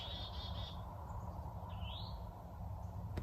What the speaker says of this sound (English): I'm also hearing birds.